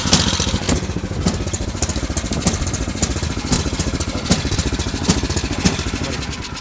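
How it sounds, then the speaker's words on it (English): A snow blower's small gasoline engine runs steadily up close, a loud, even, rattling chug that holds for the whole stretch with no voices over it. "I'll kill it now, so I'm not talking over the engine."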